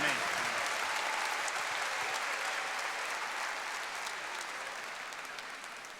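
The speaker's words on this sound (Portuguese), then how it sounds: "Vamos dar um salvo de palmas também para o nosso irmão." A church congregation applauds, a steady wash of clapping from many hands that fades slowly over several seconds, moderately distant with no voices clearly above it.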